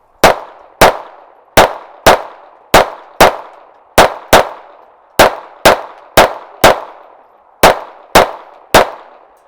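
A Taurus TX22 .22 pistol fires about eighteen sharp, loud shots in quick, uneven pairs and strings, each crack trailing off in a short outdoor echo, with no talking.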